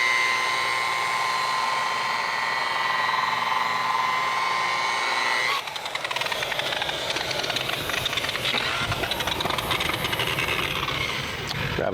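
A polisher spinning at about 1,200 RPM buffs compound on a black boat hull: a steady tonal machine whine for several seconds, then a rougher, louder scrubbing grind as the pad works the surface, with no talking.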